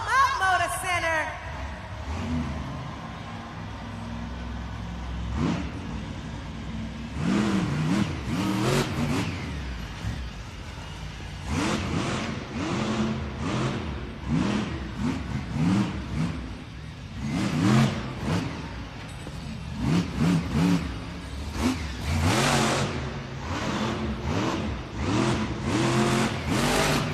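A monster truck's engine revs in an indoor arena at a Monster Jam event, loud roaring bursts rising and falling with crowd noise, under an announcer's amplified commentary.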